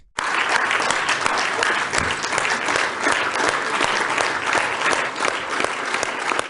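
Loud, sustained applause from deputies filling a parliament chamber, dense continuous clapping that stays at a steady high level from start to finish with no talk over it.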